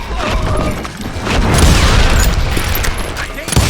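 Dense gunfire from hired guns in the Western shooter game Call of Juarez Gunslinger: sustained loud volleys of overlapping shots and booms, with shots cracking over a constant din and speech blended into the noise.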